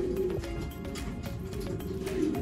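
Homing pigeons in a loft coo softly, a low steady murmur with a few faint clicks and rustles, fairly close and quiet.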